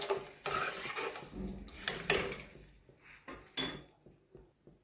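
Dal dhokli stirred in a cooking pot, with a run of close metallic scrapes and clanks of a spoon against the pot, loud at first and thinning to a few separate knocks, with a light sizzle underneath and no voices.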